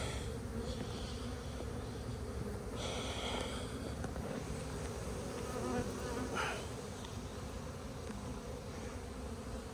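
Honey bees buzz densely around packed spring beehives in an outdoor apiary near cherry orchards. The drone is continuous and close, with individual bees flying past the listener now and then.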